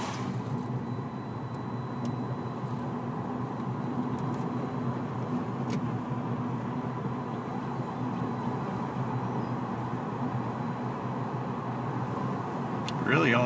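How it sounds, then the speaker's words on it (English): Soft, steady road noise from tires rolling on pavement inside a quiet 2012 Fiat 500 converted to all-electric, with no engine sound. "Really, all you can hear are the tires."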